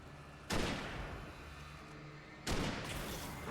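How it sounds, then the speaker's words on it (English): Two booming gunshots from the Alan Wake video game, each a sharp blast with a long echoing tail, spaced about two seconds apart. "Depends if I miss or not when I fire the gun."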